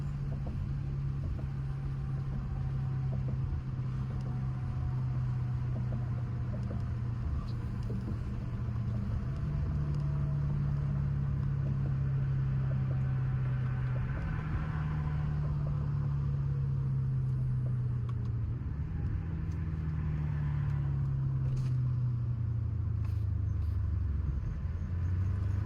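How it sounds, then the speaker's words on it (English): Twin-turbo BMW 750i with a muffler delete, driving along: a steady low exhaust drone that rises and falls in pitch with small throttle changes, continuous and close, with no talking. "with just the muffler delete, the car actually sounds pretty decent"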